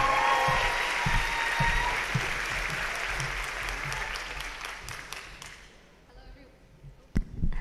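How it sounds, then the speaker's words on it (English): Audience applause at a university graduation ceremony, a full steady round of clapping that fades over several seconds before a few last claps. "Please give it a round of applause for Carol."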